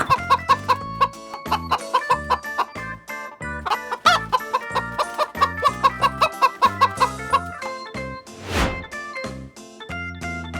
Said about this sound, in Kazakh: Тауық. Тауық. Тауық.